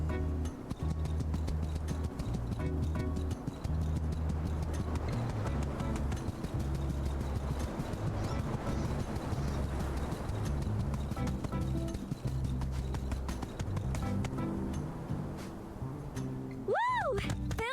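Horse hooves gallop in a steady, repeating rhythm through My Time at Sandrock, loud and continuous, with a voice speaking over the running hoofbeats.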